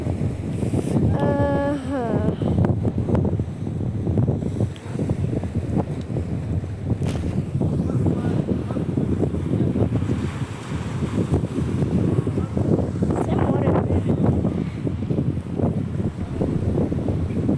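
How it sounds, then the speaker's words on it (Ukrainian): Strong wind buffets the microphone in a continuous roar, with sea and boat noise beneath and a brief chirping sound near the start. "де вітер"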